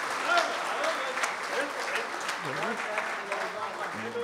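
Audience clapping at an Urdu-Hindi poetry gathering (kavi sammelan mushaira) in a hall, a dense, sustained round of applause with voices calling out through it.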